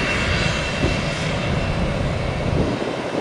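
A Spirit Airlines jet airliner taxiing at Tampa airport gives a steady, loud engine roar and whine that holds evenly throughout, with no talk.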